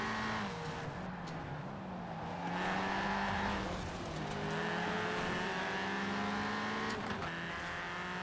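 Car engine near redline in a B Class spec racing video game, a sustained high-revving drone with pitch shifting as gears change, steady and moderately loud with no talking.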